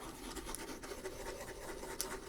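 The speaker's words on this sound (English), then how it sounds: "Pen or pencil sounds. I only have a pen, but that kind of sound." A pen scratches steadily across paper in a continuous, close, soft rasping texture with a few brief sharper ticks and no talking.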